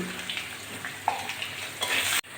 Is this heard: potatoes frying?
yes